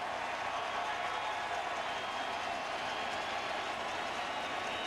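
Baseball stadium crowd at a 2013 ALCS playoff game, a steady wash of distant cheering and chatter from a large audience holding at an even level throughout.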